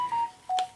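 A mobile phone chimes with two steady electronic tones separated by a short pause, close and clear, with a brief soft click between them.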